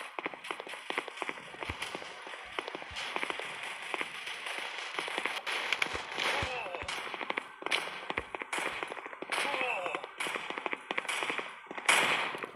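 Gunfire from the mobile shooter game Guns of Boom crackles in rapid, uneven bursts of sharp pops, loud and continuous over game noise for the whole stretch.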